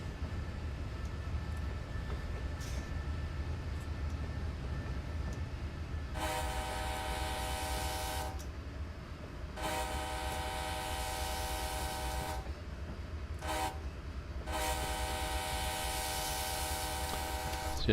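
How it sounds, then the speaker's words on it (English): A diesel locomotive's horn sounds in Train Simulator 2019 on the Feather River Canyon route at the Quincy yard, several long blasts plus one short one over a low idling engine rumble. "The whistle on as I change sides, you can hear it in different ears"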